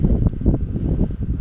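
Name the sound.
wind outdoors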